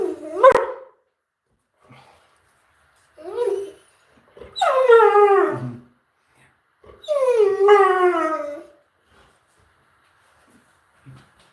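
A deaf dog gives a few short barks followed by long drawn-out whimpering howls, close and loud, separated by quiet gaps with no talk.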